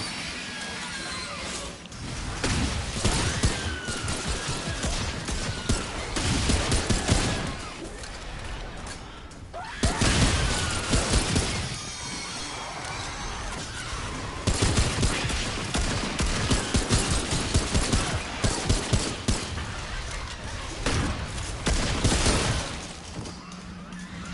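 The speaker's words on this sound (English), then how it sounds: "whoever keeps shooting me, stop it" Sustained gunfire in the video game Remnant 2, dense rattling bursts and shots running almost continuously with brief lulls, loud and close over a constant combat din.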